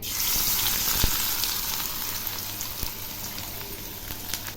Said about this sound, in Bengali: এবারে এই পেঁয়াজগুলো খুব সুন্দর করে ভেজে নিব